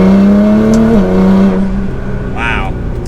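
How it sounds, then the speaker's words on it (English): A Nissan GT-R R35 accelerating from third gear in Sport Plus mode, a strong steady engine drone rising and holding close by, then easing off, with a voice talking in the cabin. "So from third gear, I'm just touching the gas."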